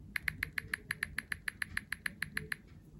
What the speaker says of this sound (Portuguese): Retro. Como se fosse uma máquina de escrever.